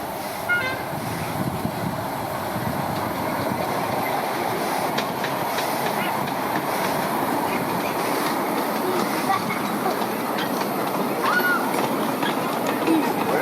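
A miniature railway train with wagons runs on 5-inch and 7¼-inch gauge track at an outdoor inauguration, a steady rumble with rail clicks and a faint squeal, while people talk over it.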